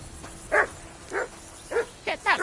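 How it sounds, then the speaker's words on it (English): A dog barks in Kingdom Come Deliverance 2: five short, separate woofs at an uneven pace over a low game hum, fairly close and moderately loud. "Get that mutt of yours to stop barking, will you?"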